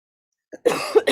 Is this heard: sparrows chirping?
no